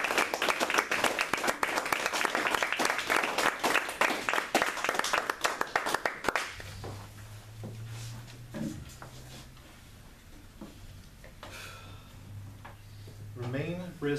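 An audience at a Toastmasters meeting applauds to welcome a speaker, loud sustained clapping for about six seconds that stops abruptly, followed by quieter room sounds and a voice beginning to speak.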